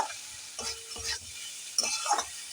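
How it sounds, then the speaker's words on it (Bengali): Jackfruit (echor) curry frying in a pan over a gas flame, Bengali style, with a steady sizzle and a few bursts of spoon scraping and stirring, close and moderately loud, no voices. "ফ্লেমটা বাড়িয়ে গ্যাসে কষতে থাকবো।"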